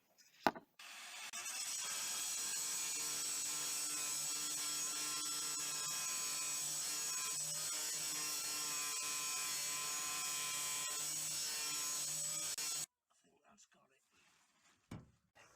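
A power tool cuts out the wooden bulkhead in the back of a micro campervan, running as a loud, continuous whine for about twelve seconds before it stops abruptly, followed by faint knocks and handling noises.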